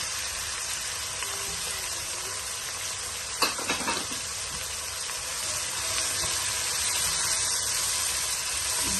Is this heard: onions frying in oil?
yes